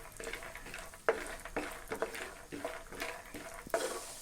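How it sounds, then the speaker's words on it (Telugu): Peanuts frying in a little oil in a pan, a soft sizzle under regular stirring taps and scrapes against the metal, fairly quiet and without speech. "మనం తీసి పెట్టుకున్న పల్లీలను అందులో వేసి దోరగా వేయించుకోవాలి."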